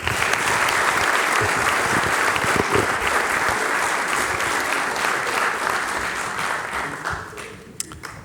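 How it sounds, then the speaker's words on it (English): Audience applause for cadets at a 2022 capping ceremony, a dense, steady wash of many hands clapping at full strength for about eight seconds, thinning slightly near the end. "Please, cadets, give yourselves a round of applause."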